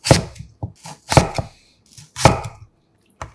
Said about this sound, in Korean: 큰 것들은 반을 잘라주고